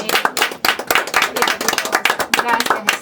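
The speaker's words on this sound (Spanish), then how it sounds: "Un Gracias, aplauso para nuestro Jesús" A church congregation claps during a worship service, a dense, uneven burst of handclaps filling the space, with voices calling out over the clapping.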